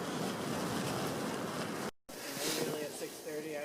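Strong wind roars and buffets during a mountain snowstorm, loud and continuous. It cuts out abruptly for a moment, then returns gustier and uneven, as if heard from inside a tent.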